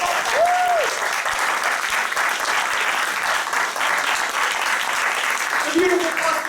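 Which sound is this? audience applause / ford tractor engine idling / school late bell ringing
audience applause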